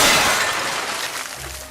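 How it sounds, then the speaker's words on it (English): Crash of an early aircraft, the Langley Aerodrome, plunging into a river in 1903, heard as a loud, bright shattering burst that fades steadily over under two seconds, with no voices. "But once again, the aerodrome crashed into the river and Manley had to be rescued."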